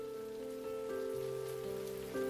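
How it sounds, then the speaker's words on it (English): Steady rain patters outside a cafe, a soft continuous wash that holds an even level throughout, mixed with sustained tonal hum. "listening to the pitter-patter of the rain"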